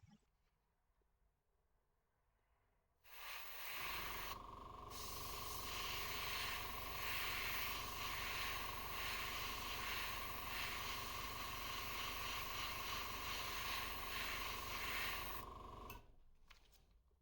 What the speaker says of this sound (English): I will spray the top of the fin and the base with a thin line of black.